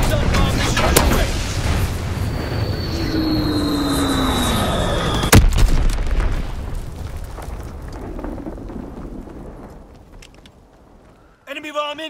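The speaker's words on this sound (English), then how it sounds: "Enemy bomb incoming." Bomb blasts in the World War II shooter Call of Duty WWII: a loud booming impact midway through, with rumbling battle noise and an aircraft drone before it, fading into quieter ambience and a brief clatter at the end.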